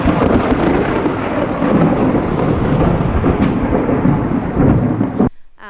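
Thunder from a lightning strike on a farm, a loud continuous rumbling roll with storm rain, sustained close and heavy for about five seconds before cutting off abruptly.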